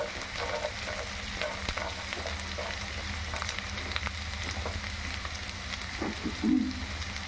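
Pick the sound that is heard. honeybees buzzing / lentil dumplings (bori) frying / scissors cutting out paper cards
lentil dumplings (bori) frying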